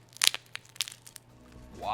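Crunchy, bubbly pizza crust topped with wagyu, bitten close up: a few sharp crackling crunches early on, then quieter chewing before a voice starts at the end.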